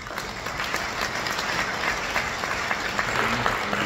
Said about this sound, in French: Donc moi j'aimerais qu'on vous applaudisse, vous les PME